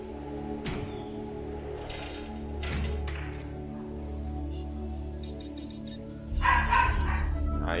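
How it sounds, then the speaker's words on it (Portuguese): In a Jurassic World Evolution game on Xbox One, a small dog barks and yips in scattered bursts over a droning ambient bed, with a louder burst near the end. "Aí a praguinha tá latindo."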